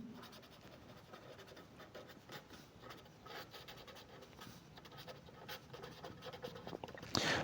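A pen writes on paper or a board during a math lesson, giving faint, continuous scratchy strokes and rubbing close by, with no talk.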